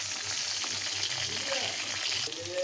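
Onions fry in oil in a pan with a steady close sizzle and crackle, a faint low hum running beneath.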